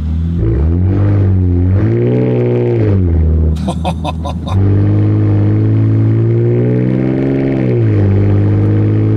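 A loud, nearly straight-piped big block V8 truck engine revs hard, its pitch swinging up and down in repeated throttle blips, with a brief clattering burst in the middle.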